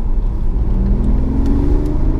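BMW i8's 1.5-litre turbocharged three-cylinder petrol engine, a Mini-derived unit, revs steadily from outside the car, a loud, continuous mid-pitched drone that climbs slightly in pitch across the whole stretch with no talk over it.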